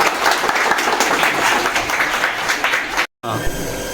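Crowd applause at a water plant inauguration, dense continuous clapping close and loud for about three seconds, then a brief cut and more clapping.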